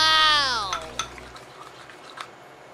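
A spoon stirs a soap and water mixture in a container, giving several light scraping clinks at an uneven pace. A brief whining tone opens it before the stirring.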